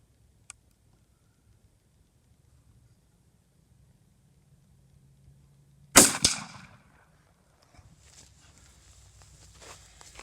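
A shotgun fires a single buckshot round during a long-range test, one sharp loud blast followed by a brief rolling echo, with quiet outdoor ambience before and after.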